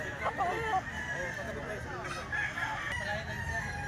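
A brass back gamefowl rooster crows close by, with clucking and other fowl around it, while someone talks over the calls.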